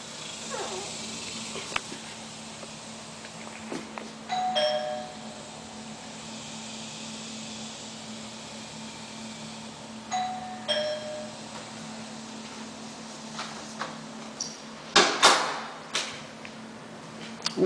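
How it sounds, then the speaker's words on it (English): A house doorbell chimes twice, roughly six seconds apart, as faint clear tones over a quiet room background with low hum. "I'm going to hear the doorbell for the last time."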